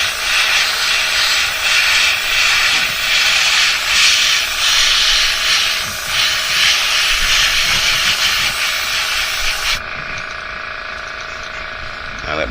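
Spray paint misted lightly over a stencil-style fade, laying purple over blue on a custom paint job: a steady, loud airy hiss for about ten seconds that drops to a quieter, thinner hiss near the end.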